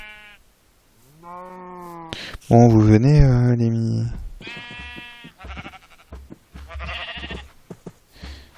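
Sheep bleat in Minecraft, a few drawn-out baas, one loud and close, mixed with a cow-like moo and other farm animal calls while someone talks.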